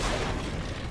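A tank cannon shot glancing off armor in the World of Tanks video game on Xbox One, a dense continuous rumbling burst lasting about a second, loud and close with no voices.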